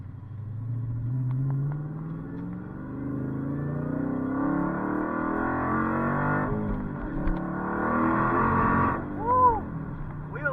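Dodge SRT Ghoul engine pulling under throttle, a loud, deep rumbling drone rising steadily in pitch through the gears, heard from inside the car with a brief squeal near the end.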